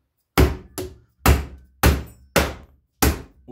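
A hammer knocks repeatedly on the stuck expander cone of a chimney pipe swaging tool, six sharp close metallic thunks in an uneven rhythm, each ringing briefly, no talk.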